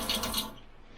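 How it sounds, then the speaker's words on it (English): Small USB-rechargeable battery pump dispensing drinking water, a brief close hiss of water streaming out that cuts off within a second. "Push the button, water comes out."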